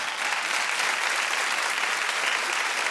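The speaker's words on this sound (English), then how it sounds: "clap a little louder, everybody" A talk-show studio audience applauds in a steady, dense wash of clapping that holds at an even level throughout, with no voices over it.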